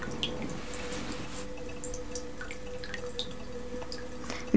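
Water drips slowly into a glass of François Guy absinthe, a few sparse, soft drops in a quiet room with one louder drip at the end.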